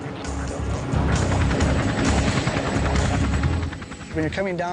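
Steady low rotor thumping and engine roar of a helicopter, loud and continuous, close by, with a brief rise in pitch near the end.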